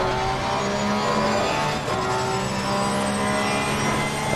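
Race car engine held at full throttle through a fast section at Zolder in Assetto Corsa Competizione, a loud continuous drone with steady harmonic whine and no break for the full stretch.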